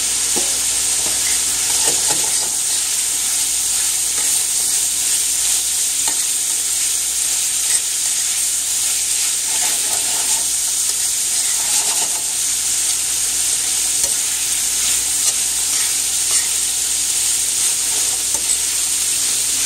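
Meat, seasoned with wet jerk seasoning for chicken tacos, fries in a pan with a loud, continuous close sizzle and hiss, while occasional scraping stirs break through the steady crackle.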